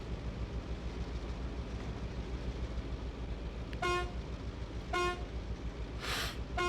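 A train horn sounding in the railway building game Mashinky, three short tonal toots spaced about a second apart over a steady low rumble of moving engines.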